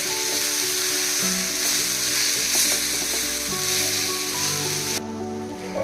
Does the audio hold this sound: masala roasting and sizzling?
yes